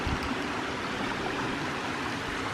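Steady rush of a waterfall along a creek in a natural area in Tennessee, a constant soft broadband hiss of flowing water with no voices.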